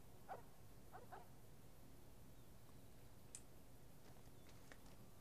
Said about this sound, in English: What the fuck are you barking about now, dog?